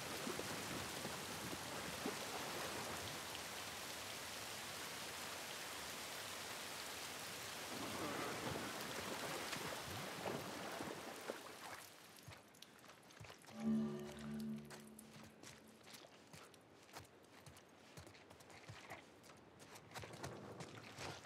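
Steady heavy rain pours in a rainy outdoor scene of the video game The Last of Us Part 1, loud and continuous for about twelve seconds, then drops away to a muffled sheltered hush with faint dripping and a low rumble.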